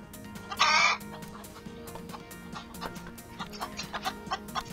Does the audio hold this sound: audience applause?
no